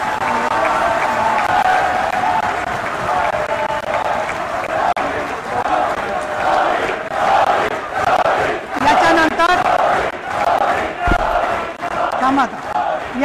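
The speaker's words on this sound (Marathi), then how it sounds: "आपल्या कर्णधार रोहित शर्मा यांचा पण टाळ्या वाजवून जोरदार स्वागत करूया" Audience applause and crowd noise welcoming Indian cricket captain Rohit Sharma at a felicitation of the World Cup-winning team in the Maharashtra legislature building, Mumbai; sustained loud clapping and cheering throughout, with voices mixed in.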